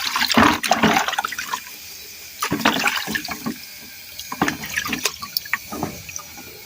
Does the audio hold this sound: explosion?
no